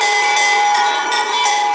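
Temple bells ringing at the Ram Mandir in Ayodhya during the Surya Tilak ceremony, a loud steady shimmering metallic din with sustained tones, likely mixed with conch.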